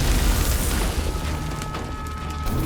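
Steam explosions from a blue flare striking cold air in an animated forest-fire scene, heard as a dense, roaring burst of noise that dips briefly midway and swells again.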